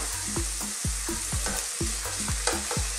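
Thin chicken slices for butter chicken fry in a pan over medium-high heat, with a steady sizzle broken by regular, rhythmic scrapes of a spatula stirring the meat.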